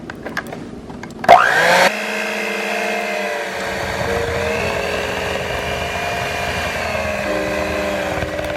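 Electric mixer blending cheesecake batter of cream cheese, sugar and vanilla, switching on with a sharp whine, then a steady close motor drone that shifts in pitch as it runs.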